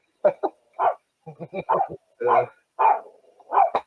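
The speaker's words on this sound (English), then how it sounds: "Hey, can you hear that? My dog's going nuts." A dog barks excitedly in rapid, uneven bursts of loud yaps and woofs, close by and dominating the short stretch, with little else underneath.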